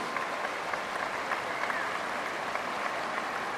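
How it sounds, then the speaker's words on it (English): A crowd at a dog show claps continuously in a dense, even wash of applause that holds steady from start to finish. "Give our judges a big round of applause."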